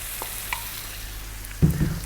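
Prawns for a fish and prawn coconut curry go into a sizzling pan: a steady quiet frying hiss, then a sudden thump and clatter near the end as they drop in.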